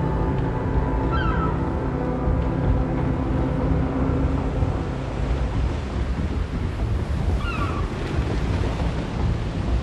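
Ocean waves washing steadily around a metal island in the Little Nightmares video game, a constant roaring surf wash with faint high calls drifting through.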